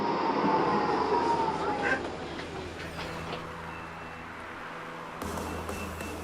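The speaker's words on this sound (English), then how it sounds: "You can get there in no time by tram." A tram in Leipzig rumbles past close by with a loud rolling roar that gradually fades, then a steady low hum and brief high tones follow as it moves off along a city street.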